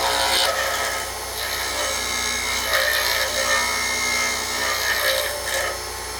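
An acrylic pen blank spins on a lathe while 180-grit sandpaper is held against it, giving a steady, close, whirring rasp. The pressure rises and eases a few times, and no one speaks.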